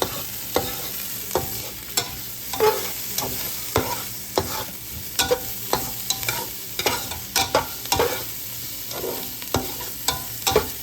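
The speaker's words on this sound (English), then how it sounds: "Now I'm adding in my garlic. Give it a little stir." Chopped garlic sautéing with onions in a hot pan, a steady sizzle broken by frequent scraping and clacking stirs of a utensil against the pan, close and loud with no talking.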